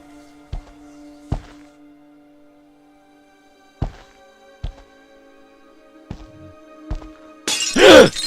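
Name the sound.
plate shattering in video game The Lost Crown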